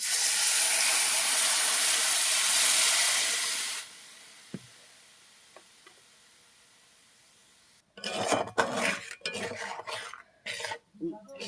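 Splash of water poured into a hot pan of spiced fish curry, a loud, bright hiss that fades after a few seconds into quiet, followed by scraping and stirring noises near the end.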